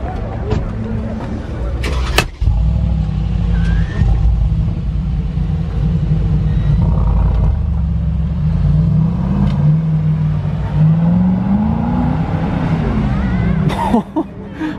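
Two Brabus G-Class SUVs, a 700 and an 800, start up and rev nearby, a steady deep engine rumble with rising rev swells, a cough and voices heard over it.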